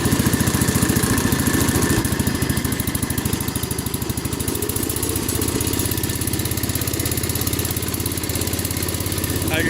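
A Wheel Horse Charger 12 garden tractor with hydrostatic drive and a snow plow fitted runs rough, its engine chugging steadily at close range with a continuous pulsing throb.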